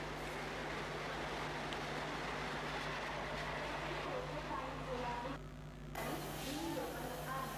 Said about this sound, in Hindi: अच्छी खासी हवा का प्रेशर बनता है जब ट्रेन गुजरती है